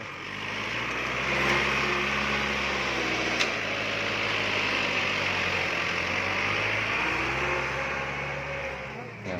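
A farm tractor's engine idles steadily at the edge of a plot of freshly laid topsoil, a low continuous rumble with slight swells in revving, heard from a moderate distance with faint background noise.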